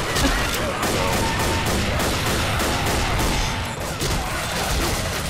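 Rapid gunfire from weapons in the Left 4 Dead video game, played on a custom map, as a dense run of loud, closely spaced shots that continue for the whole stretch, with some action noise mixed in.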